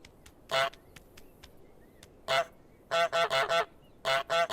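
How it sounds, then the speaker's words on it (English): A cartoon goose honks in Untitled Goose Game, one honk, then another, then a quick run of four and a final burst of three, loud and nasal against quiet footsteps and soft tapping. "That's a dedicated honking button, which is glorious."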